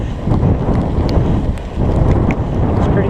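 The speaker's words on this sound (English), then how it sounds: "Windy, but the wind is supposed to die down." Gusty wind batters the microphone during a night ride on a Surly Moonlander fat bike, a loud, continuous rumble with uneven bursts and faint rattles underneath.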